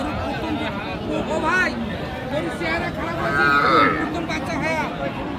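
Several cows lowing at a busy cattle market, drawn-out moos repeating over a constant background of crowd chatter and bustle, with nearby people talking throughout.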